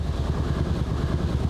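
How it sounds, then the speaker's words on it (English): A steady, pulsing rotor thump of a helicopter overhead, a low continuous chopping drone at moderate loudness with no talking. "Is that a helicopter?"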